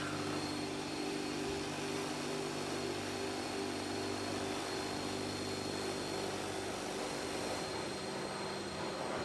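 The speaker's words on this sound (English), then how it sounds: "that's the dry pass there. So that's just really to get up any residual moisture in the carpet" A professional carpet cleaning machine making a dry extraction pass over carpet, a steady loud whining suction roar with constant motor hum that holds throughout and eases slightly near the end.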